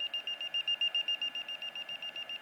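A LiPo battery voltage alarm beeping in a fast, steady pulse of shrill, high-pitched tones, about six beeps per second, close and clear with no talk.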